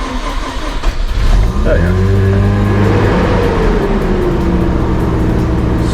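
A car engine cranks and catches, then settles into a loud, steady idle close by with a low droning rumble, and someone briefly speaks over the start.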